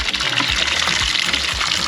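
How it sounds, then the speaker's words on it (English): Water gushes steadily into a bucket at close range, a loud, continuous rushing fill with no voices. "I am filling up the water in my bucket"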